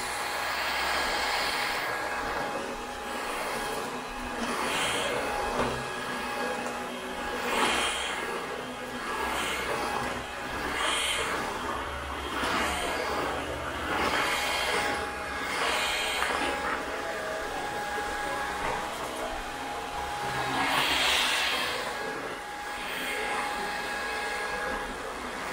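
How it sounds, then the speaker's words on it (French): A household vacuum cleaner runs steadily throughout at a moderate, constant level, its motor drone swelling and easing slightly as it is moved around a room. "Il fait pas peur au bébé cet aspirateur, c'est trop cool"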